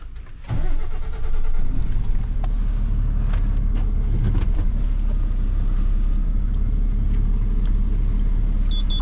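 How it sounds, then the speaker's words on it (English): A lorry engine on a tight-access job site turns over and catches, then settles into a loud, steady diesel rumble that continues throughout with occasional knocks and clanks, no voices. "then I'll move that lorry"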